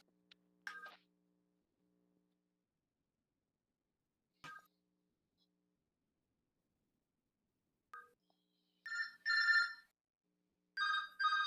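A phone ringtone chirps in short electronic bursts, faint at first and then repeating in clearer pairs, with quiet gaps between rings.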